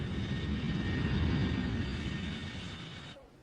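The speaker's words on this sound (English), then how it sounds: "Now the plane has landed" A United passenger jet arriving from Chicago lands at Heathrow Airport, its engines producing a loud, steady broadband roar that holds without letup and then cuts off sharply near the end.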